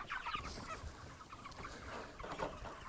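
Chickens in pastured poultry pens cluck and chatter steadily at moderate distance, with soft rustling movement under the calls and no talking.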